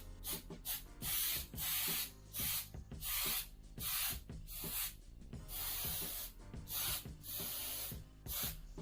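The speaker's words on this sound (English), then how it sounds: "You shake it, and you just spray it on top." Gold spray paint hisses onto ribbon wrapped around a bottle in repeated short bursts, close and loud, about a dozen sprays separated by brief pauses.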